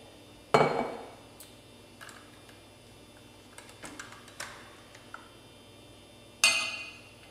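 Homemade hummus is moved from a food processor into a bowl, giving a few sharp clinks and knocks of utensil against container, spaced irregularly with quiet gaps, fairly close and moderately loud.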